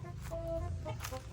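A skittish chicken loose in a house lets out a few short, soft clucks, faint against a low background rumble.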